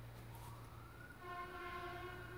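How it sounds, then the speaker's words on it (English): Emergency sirens rise in the distance, a steady wailing tone climbing from about halfway through over a constant low hum, with no talking. "Sirens!"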